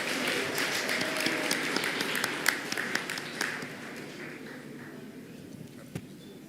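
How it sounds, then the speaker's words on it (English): Applause from a seated audience at a graduation ceremony, dense steady clapping with sharp individual claps standing out, gradually thinning and fading toward the end. "Big applause."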